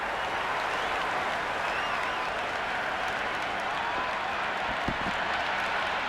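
A stadium crowd in the Cricket 26 video game applauds and cheers after boundaries in a Big Bash League match, a steady, dense wash of clapping that holds evenly for several seconds.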